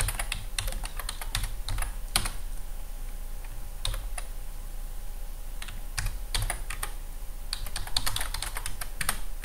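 Password being typed on a computer keyboard while setting up an Oracle Enterprise Manager database connection: a steady run of light, fast key clicks with irregular pauses, close and fairly quiet, with no talking.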